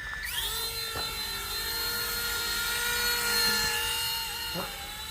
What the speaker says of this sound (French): L'hélico, vous voyez, démarre.